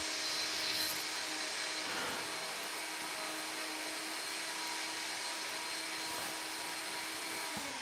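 A blender making smoothies downstairs gives a faint, muffled, continuous whir that stays steady from start to finish with no voices.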